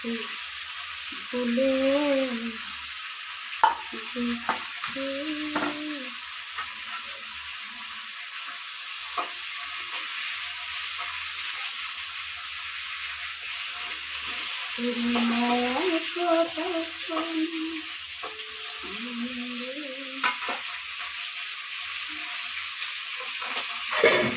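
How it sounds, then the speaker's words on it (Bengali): Cauliflower fries in a pan with a steady, loud hiss and sizzle that runs throughout, while someone speaks in short bursts over it. "ভাজা হয়ে গেছে কপিটা ভাজতে দিয়েছি"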